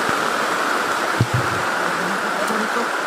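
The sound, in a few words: heavy rain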